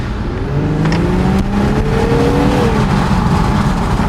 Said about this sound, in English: You're gonna hear it whenever I take off from the stop sign.